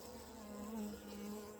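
A low, steady buzzing hum of honeybees and drones inside a beehive, faint and continuous, swelling slightly in the middle with no voices.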